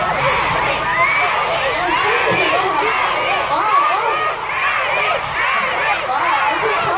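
At KCON Abu Dhabi, a large K-pop concert crowd screams and cheers without a break. The shrill, dense roar of many voices stays loud and steady throughout.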